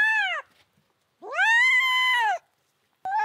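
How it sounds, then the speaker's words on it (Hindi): Cats meowing on a farm: three loud, close meows, a short one, a long drawn-out one and a third cut off at the end, with quiet gaps between them. "कितनी बिल्लियां आ गई हैं फार्म पे?"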